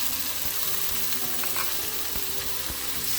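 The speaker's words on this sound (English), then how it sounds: "Add curry leaves and saute it till the onions are soft." Sliced onion and curry leaves sautéing in a pan, a dense, loud, continuous sizzle with occasional faint stirring clicks, heard close and alone without speech.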